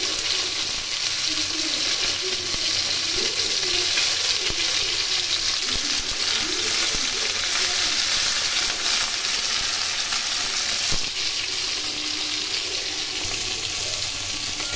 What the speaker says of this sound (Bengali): এইদিকেও ভেটকি মাছ ভেজে নিচ্ছি।